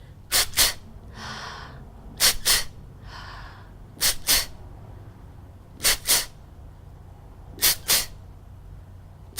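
Sharp, forceful inhalations come in short pairs during a vocal breathing exercise, repeated about five times at regular intervals with softer breaths between, close and loud against a quiet background.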